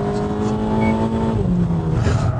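An autonomous car fitted with an ibeo LUX sensor drives itself around a track at about 80 mph; its engine drones loud and close with a steady tone that slowly drops in pitch, and no one speaks.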